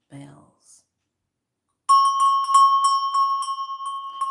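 A bright bell rings repeatedly in a fast, steady series of clear metallic strikes with a sustained ringing tone, loud and close, following a brief murmur of voice and a pause of silence.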